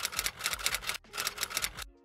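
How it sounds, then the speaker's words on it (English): Typewriter keys clack in quick, irregular bursts of mechanical strikes, fairly quiet, with a short pause partway through and no voices. "some peaks identify the typewriter sound"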